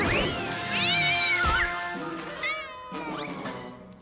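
A cartoon cat meows repeatedly, several drawn-out, wavering cries up close, with short pauses and a sharp thump between them, loud and mostly on its own.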